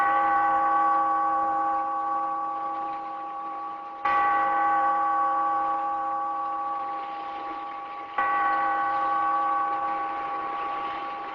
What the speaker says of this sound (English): toll the bell, so that all may know we are gathered again in the